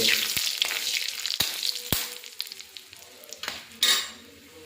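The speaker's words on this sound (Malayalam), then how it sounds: "കുറച്ച് കരിവേപ്പില ഇടുകയാണ്. നമ്മൾ നല്ല രീതിയിൽ അതിന് ഇളക്കുകയാണ്." Curry leaves frying in a pan for a Brahmin-style coconut sambar tempering, with a sharp hissing sizzle, scraping stirs and several distinct metallic knocks of a spoon on the pan, close up with no talk.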